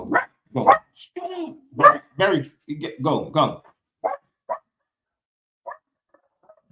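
Dogs bark indoors, loud close yips and barks mixed in among a person talking, then a few fainter scattered barks trailing off.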